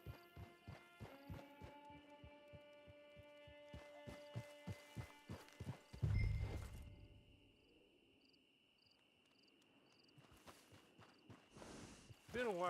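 A horse walks in Red Dead Redemption 2, its hooves clip-clopping in an even rhythm for about six seconds over sustained musical tones. Quieter ambience follows.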